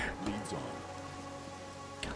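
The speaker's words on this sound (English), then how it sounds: "And it's raining." Steady rainfall in the fantasy role-playing game Pathfinder: Kingmaker, a continuous soft hiss of falling rain heard alone with faint in-game sounds mixed in.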